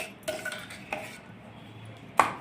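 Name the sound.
transferring date chutney into a dish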